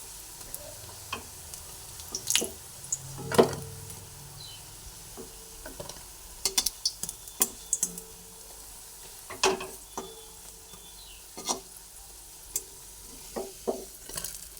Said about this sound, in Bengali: দুটো দিকে একটু লাল লাল করে ভেজে নিলাম